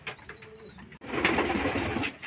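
Pigeons coo near the microphone, a soft tonal call in the first second, then a denser stretch of cooing and rustling fills the rest, all without speech.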